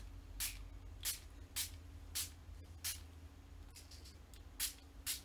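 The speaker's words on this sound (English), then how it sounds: "and then just give it a spray." A hand spray bottle mists water in about eight short, quiet, evenly spaced hissing puffs at close range, each spritz brief and soft against a faint background hum, with no talking.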